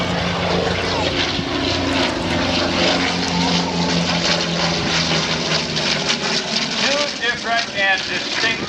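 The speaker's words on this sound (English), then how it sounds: "Different and distinct sounds from the fighters of World War II." A rare World War II fighter aircraft roars past at a Memorial Day air show in St Augustine, Florida, its loud propeller engine drone filling the whole stretch steadily, with crowd voices mixed underneath.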